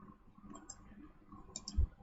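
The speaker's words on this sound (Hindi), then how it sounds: "राइट क्लिक करते हैं हम लोग" A single computer mouse right-click, a short, sharp, quiet tap near the end of an otherwise hushed stretch of room tone.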